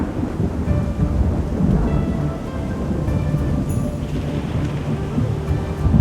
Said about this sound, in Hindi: अरे कितनी तेज हवा चल रही है। इस बारिश में कोई पेड़ गिर न जाए।